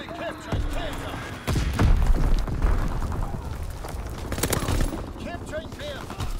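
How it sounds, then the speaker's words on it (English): Gunfire, thumps and booms from a WW2 video game battle, with a Fritz X bomb dropped amid the fighting; dense bursts and heavy impacts rumble close and loud, with a voice calling out over them. "Dropping Fritz X bomb."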